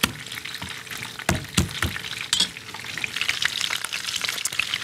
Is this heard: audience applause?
no